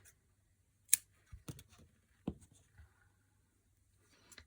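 Scissors snip crochet yarn in a quiet room, a few sharp close clicks and small rustles spread over several seconds with near silence between them, no voices.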